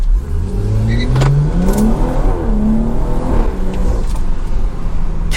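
A BMW 340i with a B58 engine and a stage 2 off-the-shelf tune accelerates hard in a low pull, heard from inside the car as loud rising engine revs climbing through the gears with brief dips at the shifts.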